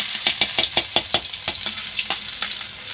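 Garlic frying in hot oil in a pan, a steady bright sizzle with sharp clicks and crackles spattering throughout, close and loud, with no talking.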